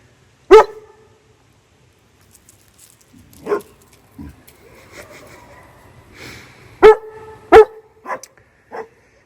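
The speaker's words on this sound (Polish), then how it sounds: "przestańcie już szczekać" Dogs barking nearby in a home setting outdoors in the cold, several sharp loud barks spaced irregularly with short yips and quieter sniffing and movement between them.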